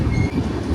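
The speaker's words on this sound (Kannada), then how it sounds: "ಈಗ ನಮ್ಮ ಟ್ರೈನ್ ನಿಂತಿದೆ ಇಲ್ಲಿ ಮನ್ಮಧುರೈ ಜಂಕ್ಷನ್" A train standing at Manamadurai Junction on the Rameshwaram to Chennai line gives a steady low rumble with faint mechanical hum, continuous and fairly loud throughout, with no voices.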